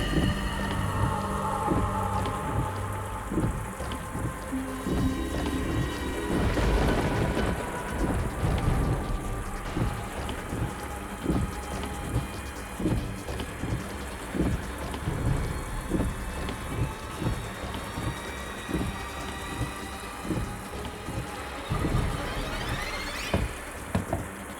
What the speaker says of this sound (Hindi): इतनी तेज बारिश हो रही है, क्या करूं कुछ समझ में नहीं आ रहा।